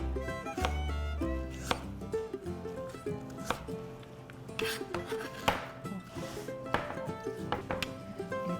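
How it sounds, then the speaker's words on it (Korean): Carrots being cut into fairly large chunks with a knife in a cooking class kitchen: uneven, close thuds and scrapes on a board, mixed with light clatter of utensils. "당근도 조금 큼직큼직하게, 조금 전에 다진 것보다는 조금 크게 썰어 볼게요."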